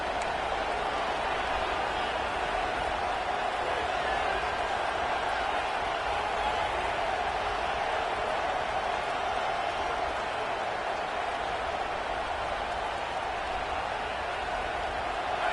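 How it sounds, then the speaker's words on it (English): A college football stadium crowd gives off a steady, dense roar for the whole stretch, a broad wash of cheering without clear breaks, with a broadcast commentator talking over it. "This crowd ready to make its presence known."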